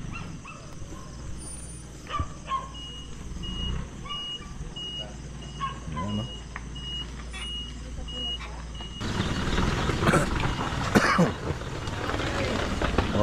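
A delivery truck backs up at a construction project site, its reversing beeper chirping in a steady repeated pattern above engine noise, while dogs bark and whimper nearby and people talk.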